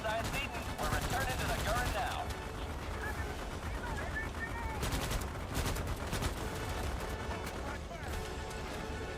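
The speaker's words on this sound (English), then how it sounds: "you've got unlimited ammo, and you can just kind of hold down the fire button and kill as many of them as you can" Dense, continuous gunfire from unlimited-ammo weapons in Starship Troopers: Extermination, a steady wall of rapid shots and blasts with no breaks, layered with chaotic battle noise.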